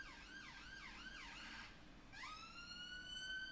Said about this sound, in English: Let us know how loud this siren is.